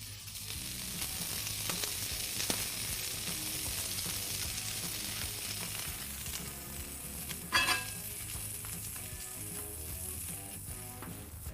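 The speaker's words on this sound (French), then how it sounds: "faire sauter quelques tranches de piment jalapeno frais" Fresh jalapeño slices sauté in clarified butter on a griddle, giving a steady, close crackling sizzle that runs the whole time, with occasional scrapes and one brief louder clatter partway through.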